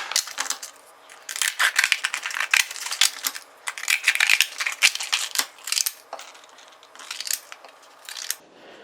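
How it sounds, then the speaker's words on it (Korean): Kitchen scissors snip dried kelp into bite-size pieces, making a string of crisp, close cuts with crackly rustling between them and short pauses, and nobody speaks. "먹기 좋은 크기로 가위로 썰 거예요."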